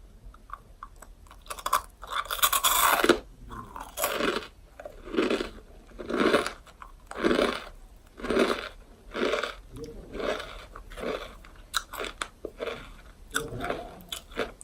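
Someone bites into and chews the crunchy 뭉쳐야 감자 potato snack close to the mic, making loud, steady crunches in a regular rhythm with no talking.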